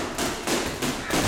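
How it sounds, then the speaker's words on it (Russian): Rapid side uppercut punches thrown from below in boxing training, landing as a continuous series of dense, loud thumping impacts close by, with no talking over the blows. "Боковые снизу одни удары."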